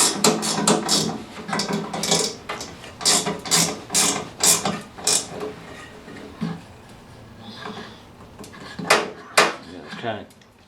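A bolt is tightened down on a lockbox made from a 20mm ammo can. It gives repeated close metallic ratcheting clicks and clanks in uneven bursts, with some pauses between them.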